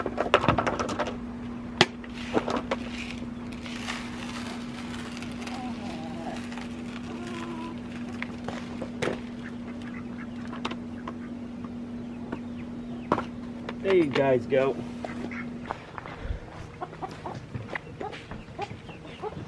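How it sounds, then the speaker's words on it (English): Chickens and ducks on a farm cluck and squawk in scattered bursts while grain is scattered for them, with a steady low hum running underneath and someone speaking briefly. "Sounds like the chicks are doing good. They're ready for some more grain."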